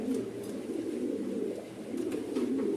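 A grizzle beauty homer pigeon coos in low, throaty, repeated rolls, close and moderately loud, over a faint background.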